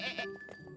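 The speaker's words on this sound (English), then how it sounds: "Another goat? Yes, to keep Little Bear company." A cartoon goat gives a short bleat, a brief wavering cry lasting under a second, close and clear with no talk over it.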